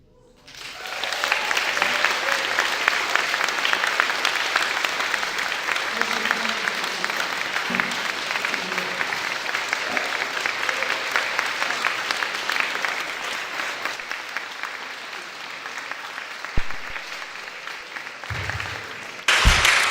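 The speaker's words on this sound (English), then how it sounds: "one more round of applause for all of the performers tonight" Sustained applause from an evening event audience for the performers, a loud, even wash of many hands clapping that holds for about fifteen seconds before tapering, with brief voices near the end.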